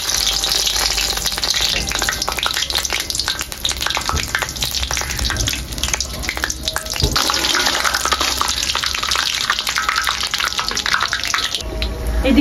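Dried red chillies, bay leaf and cumin sizzle loudly and steadily in hot mustard oil, a dense continuous crackle from start to finish with no talking.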